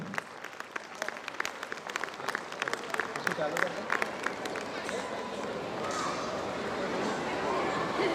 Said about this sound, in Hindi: जोरदार तालियां बजाकर इस शूटर का स्वागत करें